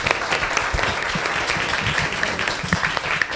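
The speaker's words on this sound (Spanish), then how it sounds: "A ver, un aplauso para él." An audience applauds at a talk on writing and mental health, a dense and steady clapping from many hands that continues through the whole moment.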